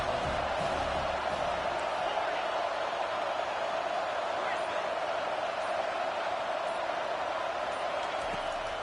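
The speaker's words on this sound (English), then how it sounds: "Big 3rd down as the crowd gets behind this defense" A stadium crowd roars and cheers during a third down at a Michigan State at Penn State college football game. The noise is a continuous broadband wash that stays loud throughout, with a commentator talking over it.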